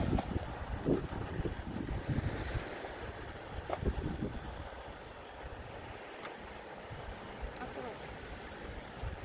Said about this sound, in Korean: 아하, 바람이 너무 많이 불어.